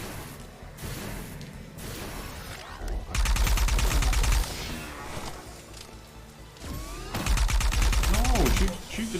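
Bursts of rapid automatic gunfire in the shooter game ArcRunner, two loud dense volleys separated by quieter stretches of game ambience, with a voice talking over parts of it.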